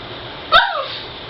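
A pet dog gives a single short bark indoors at a home, quick and fairly close, standing out against a quiet room.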